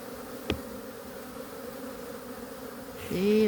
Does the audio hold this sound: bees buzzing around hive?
yes